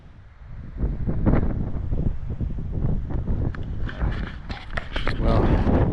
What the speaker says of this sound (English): it's still pretty windy up here.